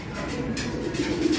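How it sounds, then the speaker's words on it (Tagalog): Pigeons cooing in a loft or coop above, a low soft continuous murmur of coos with no one talking over it. "So tingnan natin yung mga ibon sa taas guys."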